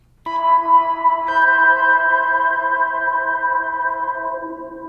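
A tone played through a Death By Audio Rooms reverb pedal in peak mode with the filter cutoff swept, a bright ringing note that swells in, shifts once as a second attack enters, then sustains and slowly fades with a resonant tail.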